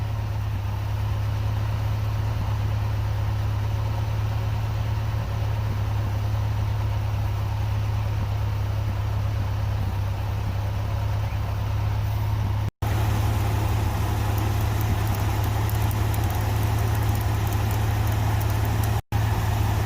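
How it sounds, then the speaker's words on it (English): A truck engine runs steadily in first gear at raised revs to drive a Ramsey PTO winch, giving a constant, close, low droning hum that barely changes across the whole stretch. "Got the engine revved up. I just got it in first gear"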